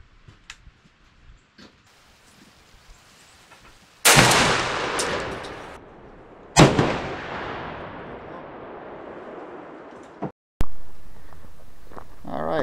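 A 20 gauge shotgun loaded with Federal TSS number 7 turkey loads fires three loud, sharp blasts spaced a few seconds apart outdoors, each booming shot ringing out and decaying slowly, with quiet handling noises before the first shot.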